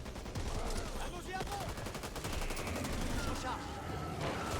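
Heavy cannon and gunfire in the co-op zombie shooter Back 4 Blood: dense, continuous loud blasts and rattling shots with chaotic battle noise throughout.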